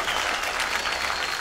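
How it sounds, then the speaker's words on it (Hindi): Enthusiastic audience applause on the stage of the dance show Dance Deewane, a loud, steady wash of many hands clapping together with no gaps. "एक बार जोरदार तालियां हो जाए चिरश्री के लिए।"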